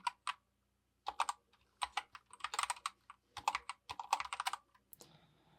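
Keystrokes on a computer keyboard come in quick bursts and separated runs, close and fairly quiet, with short pauses between words and no voices.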